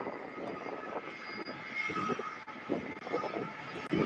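UPS Boeing 767 jet at an airport, a faint distant engine rumble with a thin whine, steady and unbroken, no voices.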